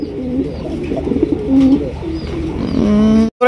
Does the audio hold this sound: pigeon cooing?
yes